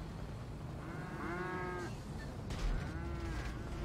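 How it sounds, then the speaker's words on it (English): A cow in the video game GTA 5 moos twice in drawn-out calls, the second overlapping a brief thud of impact, fairly quiet against low game background noise. "I just watched a cow get minced."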